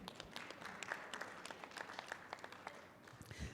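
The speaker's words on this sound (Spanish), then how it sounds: "Un aplauso." An assembly audience gives a brief round of applause, with quiet scattered clapping that stays fairly faint and distant throughout.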